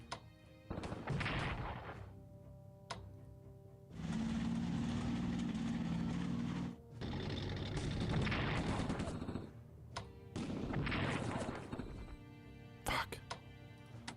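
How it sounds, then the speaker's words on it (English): Bombing of troops at Kerch in the WWII strategy game Strategic Command plays as several long bursts of heavy explosive rumble and gunfire, split by short pauses, with a voice talking over parts of it. "Bomb the troops at Kerch."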